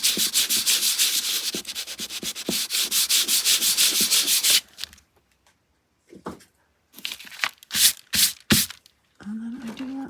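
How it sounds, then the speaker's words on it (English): Sandpaper rubbed briskly over shiny craft background paper, a close, loud run of rapid back-and-forth scrubbing strokes for several seconds, then a few short rubs and handling noises with a brief bit of speech near the end. "I'm gonna sand this just a little bit."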